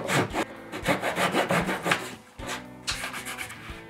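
A flush-cut saw trims wooden dowels flush on a kids' box bed. Quick rhythmic back-and-forth strokes rasp close by, then a brief pause and a second run of strokes.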